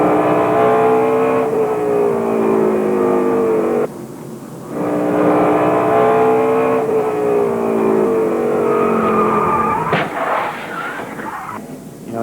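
Onboard engine roar from Greg Biffle's 2002 Busch Series race car at Nazareth, loud and continuous with rising and falling revs through gear changes, briefly dipping around a lift before surging again.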